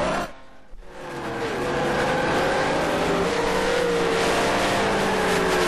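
Race cars lap the Salzburgring circuit in 1976, first a brief quiet moment and then a loud engine roar that builds and holds as the cars close in and accelerate past.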